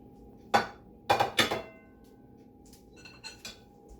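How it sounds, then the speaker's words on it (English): Serving utensils clinking against dishes while dinner, including honey skillet corn, is dished up: three sharp metallic clinks close together, then a few softer taps after a pause, in a quiet room without talk. "now we can dish up"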